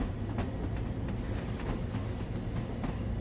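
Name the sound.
train running on tracks in Train Sim World video game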